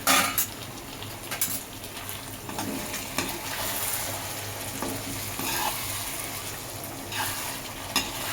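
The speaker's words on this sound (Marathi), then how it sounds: "आपण या भाज्या राईसवरती मिसळून घ्यायच्या आहेत." Vegetables and yogurt are stirred into rice in a frying pan, a close continuous sizzle with repeated scraping and clinks of a spoon against the metal pan in an uneven rhythm.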